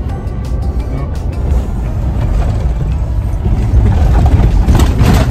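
Steady low engine and road rumble from inside a moving car, continuous and fairly loud throughout, with no clear talk.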